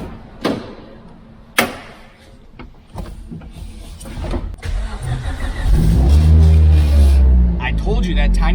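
A Mercedes C450 AMG engine cranks and starts, then settles into a loud, steady run close by. Someone talks over the first part.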